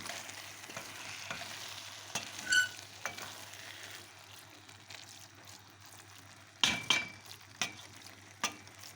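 Minced meat filling frying with potatoes in a pan, a soft, faint sizzle broken by several sharp spoon-against-pan knocks and clinks during stirring.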